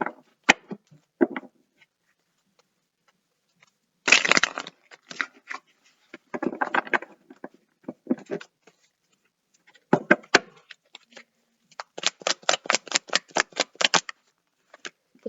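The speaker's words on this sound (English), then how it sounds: "I'm going to shuffle these cards" Tarot cards are shuffled in bursts of quick, crisp riffling and flicking, close and fairly quiet, with pauses between rounds and no talking.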